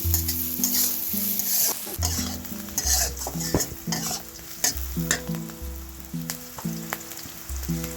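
Eggplant slices frying in plenty of oil, with a steady bright sizzle and repeated clinks and scrapes of a utensil against the pan throughout.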